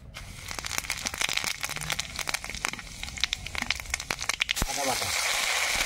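Whole cumin seeds and dried red chillies hit hot oil with dense crackling and popping, easing into a steady sizzle, heard up close with no talk.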